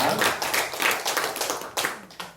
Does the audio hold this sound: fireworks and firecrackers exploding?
no